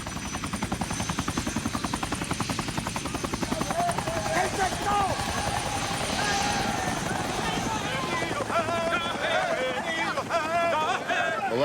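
A Chinook helicopter's heavy rotor thump chops steadily throughout as it takes off, loud and close, with a rising engine whine and some indistinct voices partway through.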